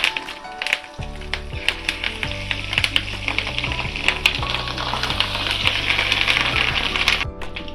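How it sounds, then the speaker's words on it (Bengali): Fish roe fritters fry loudly in hot oil, a dense continuous sizzle and crackle peppered with sharp spattering pops and metallic clinks throughout. "মাছের ডিমগুলোকে এভাবে ভেজে নিতে হবে"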